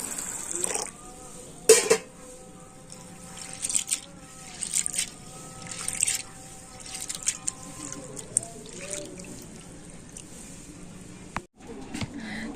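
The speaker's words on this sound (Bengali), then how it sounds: "ছোলার ডালটা প্রথমে আমি জল দিয়ে ভালো করে ধুয়ে নেব" Chana dal (split chickpeas) washed with water in a container, close trickles, drips and wet squishing with occasional louder splashes and clinks, faint and intermittent, no speech.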